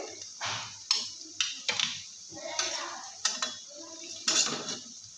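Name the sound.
fried yam (ol) pakoras being lifted out of the pan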